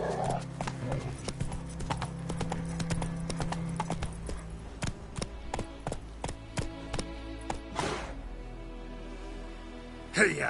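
Roach, Geralt's horse in The Witcher 3: Wild Hunt, hooves clopping in a quick steady rhythm across open ground, with a couple of snorting breaths and brief game sounds mixed in.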